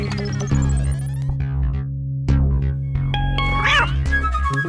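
A cartoon cat in a Hindi animated film gives a few meows, layered over bright musical tones and sound effects.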